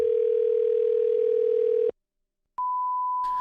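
A steady telephone dial tone hums for about two seconds, cuts to silence, then a higher single-pitch tone sounds, followed by brief clicking at the end.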